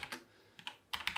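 Quick clicks on a computer keyboard while writing a RabbitMQ deployment YAML file, arriving in small irregular bursts of keystrokes with short pauses between them, close and fairly quiet.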